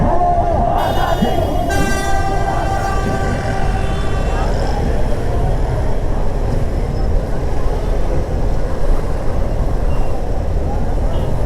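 A large crowd at an Imran Khan political rally in Islamabad fills the air with a dense, continuous roar of voices and traffic, with a short horn toot near the start, heard from a motorcycle.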